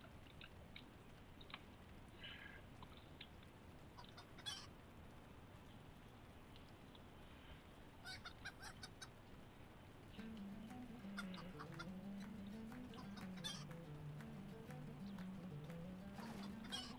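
Chicken clucking from the video game Lord of the Rings Online, heard as intermittent clucks over a steady rain-like ambient wash, with a louder stretch of fowl calls near the end.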